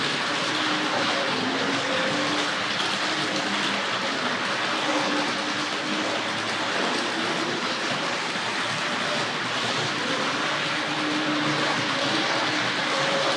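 A Hornby R.258 Princess Elizabeth model locomotive from the early 1970s runs along the track with a steady, unbroken motor whir and rolling rumble, close and fairly loud throughout.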